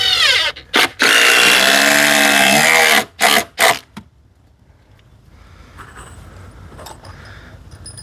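A power drill drives GRK structural screws into wooden porch steps during a repair, loud whirring bursts close by with a long run and several short pulses, followed by quieter handling sounds.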